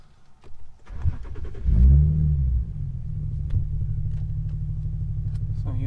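An Infiniti G37 engine with a tuned ECUtek reflash settles into a steady idle after a brief rise in revs, a close, constant low rumble heard alone.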